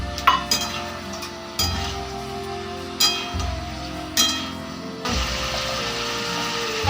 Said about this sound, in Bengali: আলুগুলোকে ভালো করে ভেজে নিচ্ছি